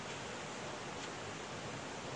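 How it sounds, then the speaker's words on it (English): Swollen creek after heavy rain, rushing loudly and steadily as a dense, unbroken roar of water close by, with no voices. "the sound you're hearing is all our creek"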